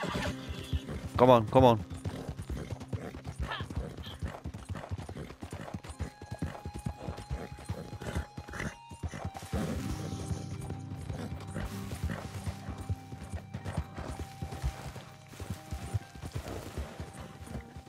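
A horse in Red Dead Redemption 2 neighs early on, then its hooves clip-clop steadily along with clanking tack, while someone speaks over it at times.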